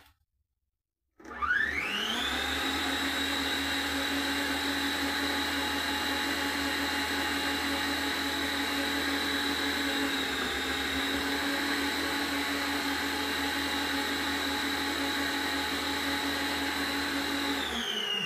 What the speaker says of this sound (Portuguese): E agora a gente vai bater um pouco a nossa massa aí para ficar bem emulsionada